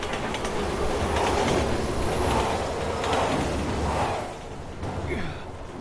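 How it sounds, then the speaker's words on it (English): Train rolling past in the video game Resident Evil 6, loud rumbling wheels and clattering carriages with squealing metal near the end, mixed with some game noise. "Train's coming!"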